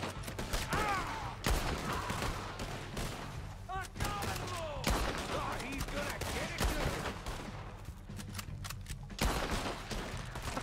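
Gunfire in the Red Dead Redemption 2 video game on Guarma: scattered shots and bursts at varying distances over a busy battle mix, with voices shouting between volleys.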